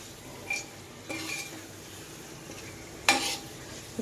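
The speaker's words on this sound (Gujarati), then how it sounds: "ટામેટા દળીને અંદર નાખીને વઘારીએ" Ground tomatoes tempered in hot oil in a pan give a continuous low sizzle, broken by a few sharp stirring and utensil clinks against the pan, the loudest near the end, with no one speaking.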